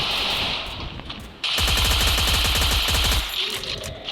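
Rapid automatic gunfire in the mobile battle game Free Fire Max: a dense burst of shots rattles loudly for about two seconds, preceded and followed by quieter game ambience.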